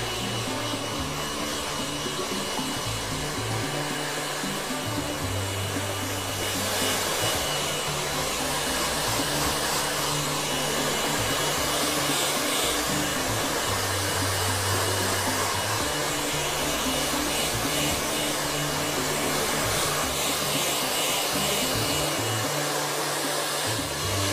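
A hair dryer roughing up hair with styling product blows steadily and loudly throughout, its whooshing airflow shifting slightly as it moves around, with no voices.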